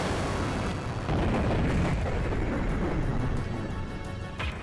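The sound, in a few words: Yggdrasil cannon firing in Xenogears video game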